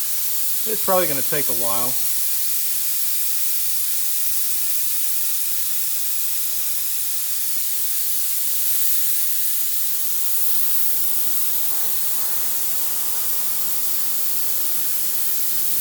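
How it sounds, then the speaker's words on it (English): A steady broadband hiss of air escaping fills the whole stretch, with a compressor running underneath. Someone speaks briefly near the start over the constant rushing noise. "So I'm gonna let some air out of it, and I'll kick it on."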